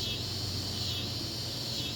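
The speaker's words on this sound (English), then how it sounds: "You got the cicadas going crazy above me." Cicadas in the trees overhead on a summer day produce a constant high, shimmering drone that holds level and loud without a break.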